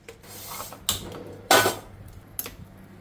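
Two spoonfuls of fenugreek seeds tipped into a pan, making a few short, gritty rattling bursts against the metal, the second one loudest, in an otherwise quiet kitchen.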